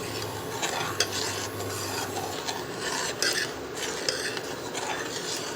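Milk for rasmalai being stirred in a pot, a continuous soft rubbing and scraping of the spoon with a few sharper knocks against the side, close and steady without speech.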